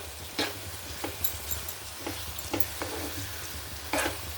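A spoon stirs turmeric through a pan of cucumber and tomato curry base for a dry fish curry, giving soft scrapes and quiet sizzling with several light clicks spread through a faint, steady background.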